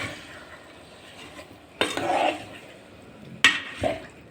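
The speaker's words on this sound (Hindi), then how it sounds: "अब इसको अच्छे से गोश्त को भूनना है।" Mutton frying with chopped ginger and garlic in a pot, a quiet low sizzle broken by two distinct bursts of ladle stirring and scraping, close and fairly loud, with no one talking.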